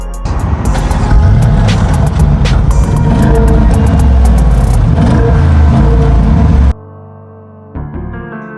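A Bentley Bentayga V8 engine revving loudly up close, a deep throaty roar rising and holding for several seconds before cutting off, then a quieter idle.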